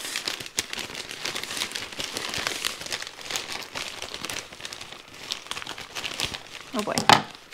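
Scissors cut open the plastic packaging around a clothing item. Dense crinkling and tearing of the plastic continues throughout, close to the mic, with one sharper snip near the end.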